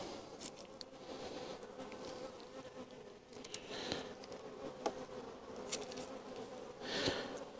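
Honeybees buzzing around a hive at an apiary, a faint, continuous drone with individual bees passing close by now and then in the quiet outdoors.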